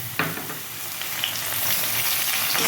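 Potatoes and tomato fry with a close, continuous sizzle in a pan for Nepali aloo dum, with light stirring.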